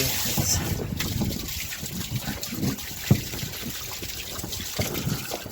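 A garden hose flushes out a clogged drain with irregular trickling, gurgling and splashing water, close up, with one sharper knock partway through.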